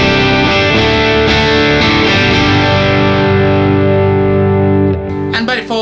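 Electric guitar through a Boss Katana 50 amp's line out, heavily distorted with chorus and effects, playing sustained chords and ringing notes loud and close, ending with a scratchy pick slide.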